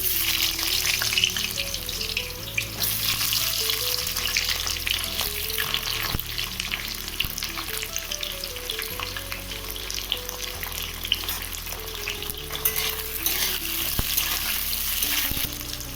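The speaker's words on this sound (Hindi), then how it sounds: "तो चलिए अब ऑयल अब हो गया है गर्म, तो इसमें पटल डाल देते हैं फ्राई होने के लिए" Pointed gourd (potol) frying in hot oil, a loud, dense, steady sizzle that crackles on throughout, with faint background music underneath.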